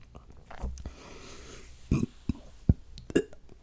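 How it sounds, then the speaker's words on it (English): A burp escapes during a quiet nighttime tea-making and chewy-candy session, with a few short, low eruptions near the close over soft background handling noise. "Burping."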